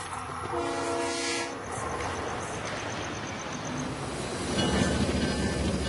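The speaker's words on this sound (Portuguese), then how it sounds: "O trem parte sem atraso às 7h30." A Brazilian passenger train between Belo Horizonte and its route sounds its horn in long tones as it departs, followed by rumbling wheels and growing rail noise, fairly close and without voices.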